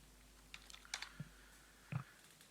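Sparse keystrokes on a computer keyboard, a handful of quiet clicks clustered together, then a pause and one last firmer tap, alone in a quiet room.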